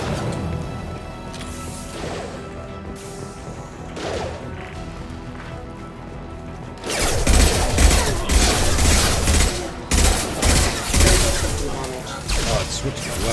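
Video game firefight in Mass Effect Legendary Edition: quieter muffled shots and mechanical clanks at first, then a loud burst of rapid gunfire and crashing impacts that pounds on in clustered volleys.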